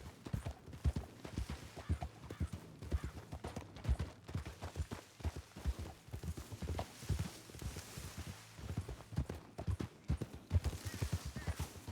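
Horses' hooves clip-clopping in the Western role-play game RedM, a steady close rhythm of hoof falls on hard ground continuing throughout with no voices over it.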